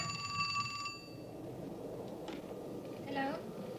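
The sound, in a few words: telephone ringing in a recreated scene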